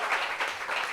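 Audience applause at a gathering in Réunion, a steady wash of many hands clapping at moderate level, continuous and slightly swelling through the short burst, with no voices over it.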